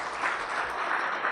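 A conference audience applauding steadily and fairly loudly for newly introduced staff, a dense even wash of many hands clapping with no talk over it.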